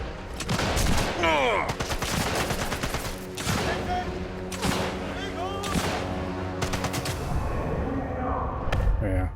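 Heavy enemy gunfire in Sniper Elite 5, loud repeated bursts and single shots with thuds and impacts filling the stretch, under a voice.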